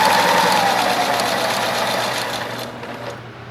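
A domestic sewing machine stitches a small fabric pouch in a steady, fast whirring run that slowly eases off toward the end, close and alone without talk.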